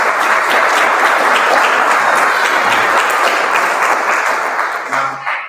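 Sustained applause from an audience at a Father's Day event, loud and continuous, tapering slightly toward the end.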